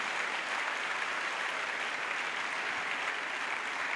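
A congregation at an evangelistic crusade applauds steadily, a dense wash of clapping that holds at an even, loud level for the whole stretch with no pauses.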